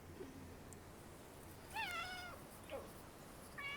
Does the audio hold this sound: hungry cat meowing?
yes